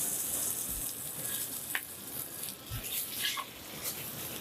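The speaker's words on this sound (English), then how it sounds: "now that we have a good sear going on, turn your heat down just a little bit." Meat searing in a hot pan gives a quiet, steady hiss and crackle with a few faint pops and clinks, and no voices are heard.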